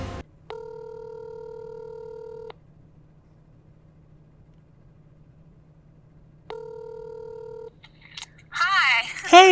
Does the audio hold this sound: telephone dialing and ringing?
yes